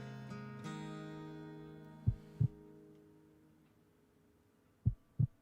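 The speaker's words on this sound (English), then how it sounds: "I like how the heartbeat was going out throughout the entire song" A heartbeat in a song thumps in two spaced double pulses, low and soft, under a fading sustained chord with no voices.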